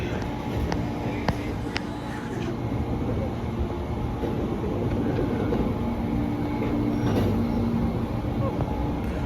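Amtrak train pulling out of Wilmington, Delaware station, a steady low rumble with a continuous high whine across the platform, heard at moderate distance with background noise.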